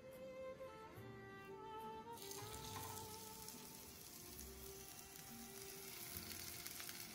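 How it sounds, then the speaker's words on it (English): Kothimbir vadi, coriander fritters, shallow-fry in a pan with a little oil, giving a soft, continuous sizzle and crackle close by, with a faint tonal hum in the background and no talking. "So I'm going to just shallow fry it with little oil."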